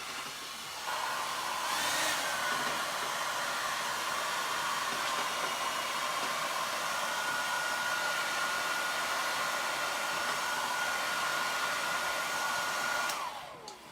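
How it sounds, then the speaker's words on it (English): A hairdryer blows steadily on paint on glass for about thirteen seconds, a loud continuous airy roar with a faint whine, switching on near the start and cutting off at the end. "I'm just going to give it a quick blast with the hairdryer."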